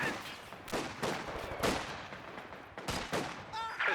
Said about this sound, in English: A couple rifle nades coming in.